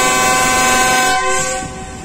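The Bahauddin Zakaria Express passenger train traveling toward Karachi, a loud horn blast sounding up close and then fading into the rumble of the moving train.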